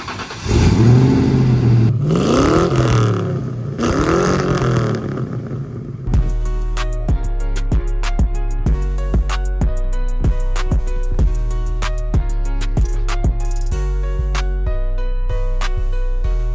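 A 1995 Ford Mustang with a newly completed exhaust revs hard three times, each blip swelling and falling away up close, before it gives way to music for the remainder.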